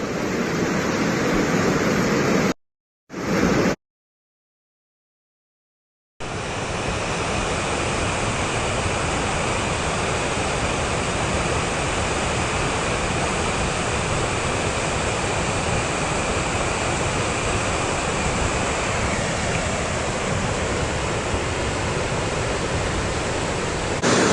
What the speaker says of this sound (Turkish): Mulgul Deresi şu anda. Önüne ne kattıysa getiriyor.